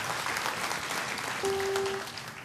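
A crowd applauds before a song-and-dance performance at a store opening ceremony, a dense continuous patter of clapping, with a brief sustained tone partway through.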